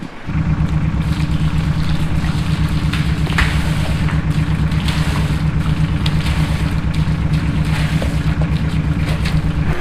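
A crop sprayer pumping antifreeze through its tank and nozzles, a loud, steady engine or pump drone with a rhythmic low throb and hiss of spray, continuous and close.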